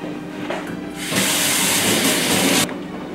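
Water from a tap gushes loudly and steadily for about a second and a half while henna is rinsed out of hair in a sink, with quieter running water before and after.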